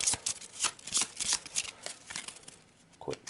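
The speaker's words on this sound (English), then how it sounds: "A quick shuffle." A brown deck of Arkham Horror game cards gets a quick riffle shuffle, a close, crisp run of rapid flutters and snaps lasting a few seconds.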